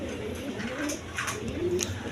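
Indian Bombay pigeons coo in soft, low, repeated throaty murmurs close by, over a steady background hiss with no talking.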